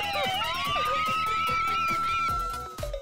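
An ambulance siren in a cartoon wails loudly in a sustained rising and holding tone, with rhythmic background music and a few soft knocks underneath.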